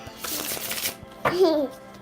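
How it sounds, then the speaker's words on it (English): Playing cards shuffled by hand at home in short riffling bursts, heard close and moderately loud, with a voice and adult talk around them. "Mommy's going to do a little shuffle, and you can pick"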